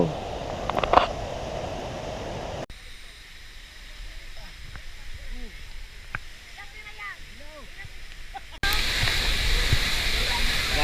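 A large waterfall in Surigao del Sur roars as a loud, steady rush of falling water, with a quieter stretch in the middle where it drops back before the full roar returns; an excited voice speaks near the start.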